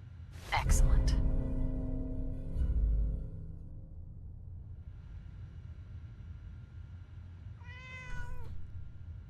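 A single drawn-out cat meow rises near the end in the Fallout 4 video game, after a heavy rumbling impact and a low steady drone fill the first seconds.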